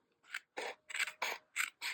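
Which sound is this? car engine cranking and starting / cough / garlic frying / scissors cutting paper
scissors cutting paper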